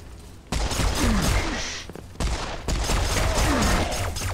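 Dense rapid gunfire from the Serious Sam 4 shooter game fills the scene in loud sustained bursts, with a brief lull near the middle and no talk over it.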